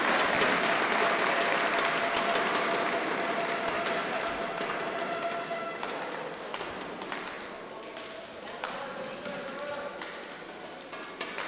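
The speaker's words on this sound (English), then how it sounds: "and still the supporters cheer him on" Supporters cheering and clapping at a European club badminton championship final, a loud crowd roar that eases slightly over time, with shuttle hits and a commentator's voice running underneath.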